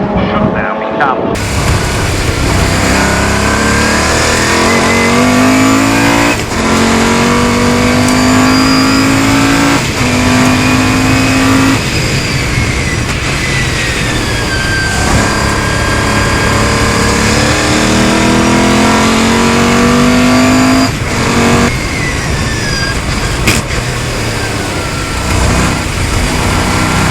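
Special saloon and modsports race cars in a Gold Cup CSCC race lap a circuit, their engines roaring loud and continuous, with rising gear-change pitch sweeps and cars passing close by in turn.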